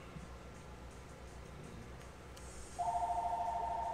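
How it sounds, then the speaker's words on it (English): Telephone ringing, a steady electronic tone that cuts in loudly after a quieter stretch of background noise and continues to the end. "How can I stop the ringing on this thing?"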